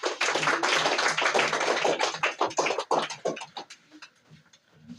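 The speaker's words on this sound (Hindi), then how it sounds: "इनके लिए तालियां हो जाए" Schoolchildren in a classroom applaud a classmate's correct answer with a loud, crowded burst of rapid clapping. The claps thin into a few scattered slaps before fading to near quiet.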